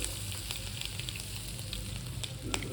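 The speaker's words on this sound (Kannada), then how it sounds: "ಬೆಣ್ಣೆ ಬಿಸಿ ಆದಮೇಲೆ ನಾನು ಸಾಸಿವೆ ಜೀರಿಗೆ ಹಾಕ್ತಾಯಿದ್ದೀನಿ" Mustard seeds and cumin crackle in hot butter, with garlic about to follow. The sizzle is steady and close, scattered with small pops and spits, and no one speaks.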